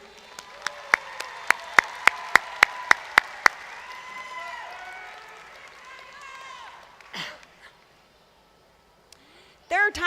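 Applause at an adult education graduation ceremony, with a run of loud single claps followed by broader clapping that fades, under some voices, then near silence.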